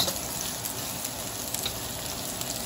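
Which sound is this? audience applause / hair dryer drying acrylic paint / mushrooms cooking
mushrooms cooking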